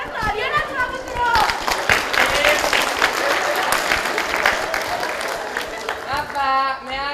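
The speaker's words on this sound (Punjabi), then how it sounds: "ਤਾਲੀਆਂ ਨਾਲ ਸਵਾਗਤ ਕਰੋ" Loud, sustained applause from a school annual function audience welcoming a performer onto the stage, dense clapping with crowd chatter and shouts throughout, easing slightly before a voice rises at the end.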